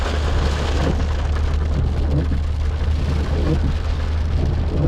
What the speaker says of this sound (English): A little rainy.